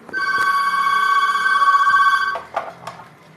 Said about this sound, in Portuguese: Espera aí que meu interfone tá tocando.